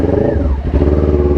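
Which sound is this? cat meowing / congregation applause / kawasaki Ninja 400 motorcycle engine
kawasaki Ninja 400 motorcycle engine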